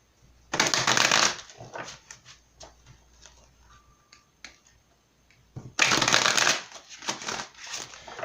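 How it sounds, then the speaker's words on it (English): A deck of emotion cards is shuffled for a tarot-style reading, two loud bursts of riffling at the start and near the end, with softer card taps and handling in between, close and without talk. "Let's go ahead and pull some emotion cards."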